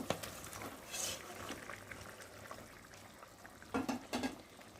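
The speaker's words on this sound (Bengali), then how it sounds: "আর এখন আমি মাছগুলোকে ঢেলে দেব।" Fish pieces tipped into a boiling curry in a pan, giving a soft ongoing sizzle and bubbling with a few light clatters and a pair of wet splashing plops near the end.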